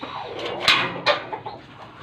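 A few short clucks from chickens at a hatchery, close and fairly clear over a steady low background hiss, spaced irregularly across two seconds.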